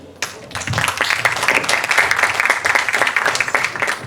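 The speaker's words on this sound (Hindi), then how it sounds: "आने वाले हर एक कलाकार का तालियों के साथ स्वागत करेंगे" An audience at a Bollywood romantic-hits concert applauds to welcome a singer, with dense, steady clapping that starts abruptly and holds at a lively level throughout.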